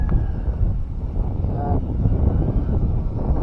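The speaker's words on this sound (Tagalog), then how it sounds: "Masyadong mahangin dito." Strong wind rumbles and buffets across an open farm field outdoors, a loud, continuous low roar gusting against the microphone, with a brief faint voice partway through.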